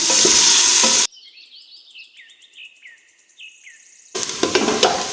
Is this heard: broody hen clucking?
no